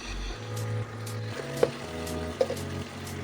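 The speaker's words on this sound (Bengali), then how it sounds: "এরপর দিয়ে দেবো 1 টেবিল চামচ সর্ষের তেল দিয়ে কষতে থাকবো।" Poppy seed paste sautéing in mustard oil in a pan, giving a faint steady sizzle with two sharp clicks of a utensil over a low hum, and no talking.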